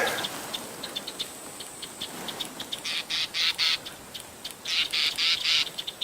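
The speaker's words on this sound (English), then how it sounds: "I can hear the birds in the front here." Sharp, rapid bird alarm calls, including a southern black tit, ring out in bursts against a quiet African bush background, growing louder and more insistent toward the end.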